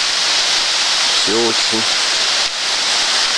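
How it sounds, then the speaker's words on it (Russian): A waterfall in El Yunque rainforest, Puerto Rico, pours with a steady, close, full-bodied rushing hiss, and a voice briefly speaks over it partway through. "Вот такой вот симпатичный водопадик."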